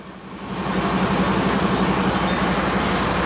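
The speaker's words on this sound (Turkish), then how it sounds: "Araç tıkır tıkır tıkır tıkır çalışıyor." A 2004 Aksor 3228 with a manual gearbox idles steadily nearby, its low diesel engine drone rising slightly at the start and then holding an even, rumbling hum with no voices.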